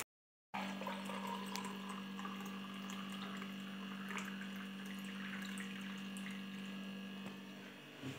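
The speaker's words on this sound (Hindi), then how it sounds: "यहाँ पे पापा ना पानी डाल रहे हैं भिंडी में।" Water flows steadily onto okra plants in a field, a continuous gushing rush over a constant low pump-like hum, close and alone without talk.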